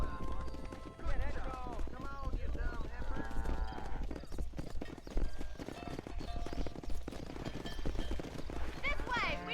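Horse hooves clip-clop and gallop in the Western video game Red Dead Redemption as several horses are herded toward a pasture, with an occasional whinny and loud in-game character voices shouting over the rhythmic hoofbeats.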